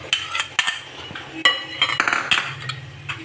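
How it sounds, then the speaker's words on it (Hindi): A spoon scrapes and clinks against a bowl while mango is stirred into whipped cream for a mango dessert, with a series of close, irregular taps and scrapes and no talking. "अब ये इसमें हम मैंगो मिक्स कर देंगे।"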